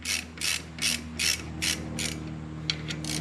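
A ratchet tightens clutch pressure plate bolts on a Harley-Davidson during a Trask power plate install, giving six rhythmic bursts of clicking pawl, then a few shorter quick clicks, close and clear.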